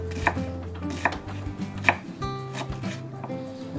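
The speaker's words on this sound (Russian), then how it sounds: "этот рецепт любит лучок. Резать будем, сейчас покажу" Knife chopping onion on a board in a kitchen, with a handful of crisp, separate cuts at an uneven pace, close and fairly loud over low background tones.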